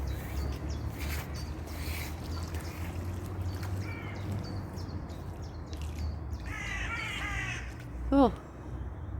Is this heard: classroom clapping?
no